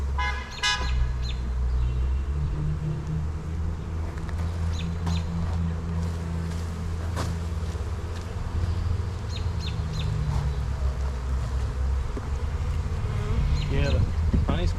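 Honeybees buzz in a dense, steady swarm around an open hive box while supers are added, a loud continuous drone with close individual bees passing and brief rustling from the hive work.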